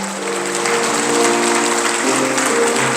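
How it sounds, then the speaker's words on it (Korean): Audience at a church hall ventriloquism show clapping steadily and fairly loudly for a few seconds, with some faint tonal sound, maybe a voice or music, underneath. "박수를 보내주시겠습니다."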